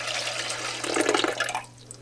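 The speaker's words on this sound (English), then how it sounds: "And just pour in warm water." Warm water pours into a canner holding jars of sockeye salmon, a steady splashing rush that swells briefly in the middle and then tapers off, with no talk.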